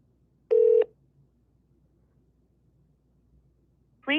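A telephone dial tone sounds in a single short, clear electronic burst against near silence, followed after a long pause by the start of a ringback or recorded voice on the line.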